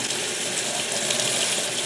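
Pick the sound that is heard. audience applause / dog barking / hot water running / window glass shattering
hot water running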